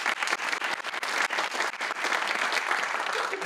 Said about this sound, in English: Let's give Dr. John Benson a round of applause